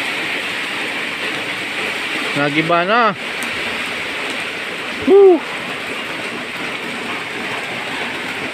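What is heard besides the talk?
heavy rain during flood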